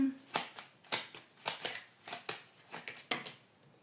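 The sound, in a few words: tarot cards being shuffled and drawn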